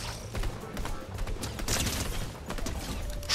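Rapid automatic turret fire in a Fortnite match, a busy stream of sharp shots and thumps running through the whole stretch, fairly loud and dense, with a voice faintly in the mix.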